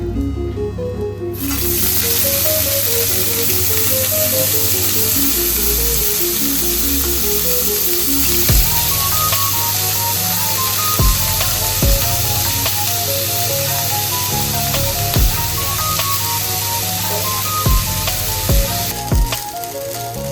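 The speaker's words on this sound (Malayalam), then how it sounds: "നമ്മളിതിലേക്ക് അരി ഇടാൻ പോവാണ്." Rice for prawn biryani goes into a hot pot, setting off a loud, steady sizzle and hiss that continues throughout, with occasional soft knocks and clinks from the pot and utensil.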